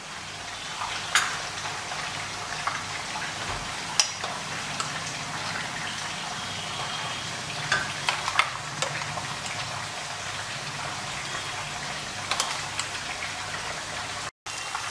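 Browned onions fry in mustard oil, making a continuous close sizzle with small crackles and pops scattered throughout and no voices.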